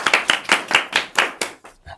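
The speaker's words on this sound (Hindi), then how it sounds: "चलिए ठीक है, ताली हो जाए बच्चों।" Children in a classroom clap for a student, about nine quick, sharp, fairly close claps in an uneven rhythm, slowing and fading at the end.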